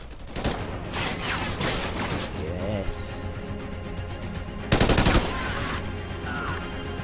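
Automatic weapon fire in the shooter game Call of Duty: Ghosts, loud rapid bursts and repeated shots layered over game noise, with a heavier burst near the end and players talking over it.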